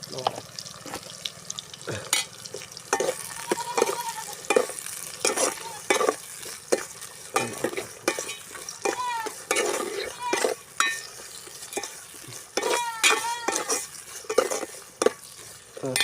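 Plantain and peas sautéing in a pan for a village-style kurma, with a spoon scraping and stirring in repeated strokes over a soft sizzle, moderately close, and some running water.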